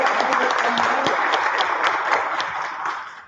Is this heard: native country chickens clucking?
no